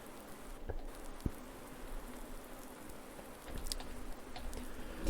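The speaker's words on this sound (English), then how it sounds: "I do like the sound of the rain in this game." Rain in a farming video game patters steadily as a soft even hiss with a few light drop ticks, quiet and alone.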